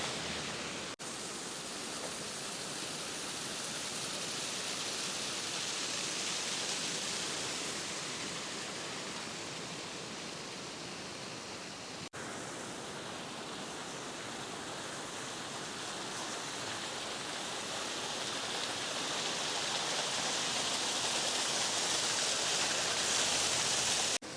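Gira Waterfall at Saputara in Dang, in full monsoon flow, gives a steady, dense roar of rushing water that holds unbroken and loud throughout, with no voices over it.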